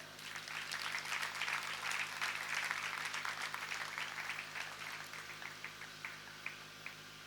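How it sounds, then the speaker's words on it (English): Conference audience applauding at an anniversary gathering, a steady patter of clapping that thins toward the end, heard at moderate distance. "Please applaud yourself"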